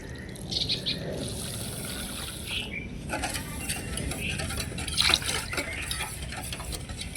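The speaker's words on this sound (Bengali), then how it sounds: "এখন লিকুইড দুধ দিয়ে আমি সুজি আর চিনিটাকে ভালো করে ফেটিয়ে নেব।" Semolina and sugar whisked with liquid milk for a cake: a steady, moderately loud wet churning and sloshing, with occasional clinks of the whisk against the bowl.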